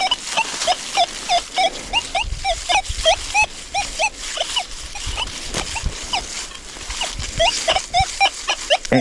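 Rapid, warbling chirps from a metal detector sweeping over a buried target at a Civil War relic site, the scratchy tones repeating in quick bursts close up over a faint rustle of handling noise.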